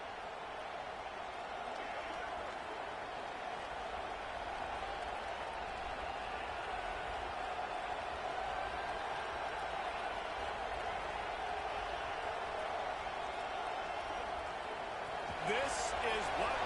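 A large stadium crowd at a Nebraska Huskers football game, a continuous distant roar of many voices holding steady throughout, with a brief louder swell near the end.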